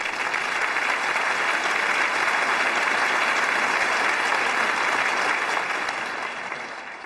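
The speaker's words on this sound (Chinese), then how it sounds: "来，让我们掌声有请杨荣啊！" Dense, sustained applause from a studio audience at a Chinese televised job-recruitment show, loud and steady for about seven seconds before thinning slightly at the end.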